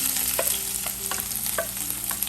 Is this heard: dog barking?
no